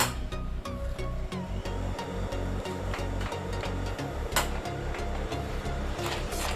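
A sewing machine runs steadily during a quick sewing lesson, its rapid mechanical whir and clatter continuous and close with brief stops and restarts, and no talking over it.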